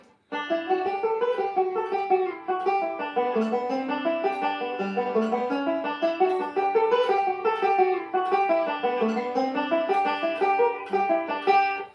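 A plucked string instrument plays an even, steady melodic pattern with notes landing squarely on the beat, clear and continuous, with no voices.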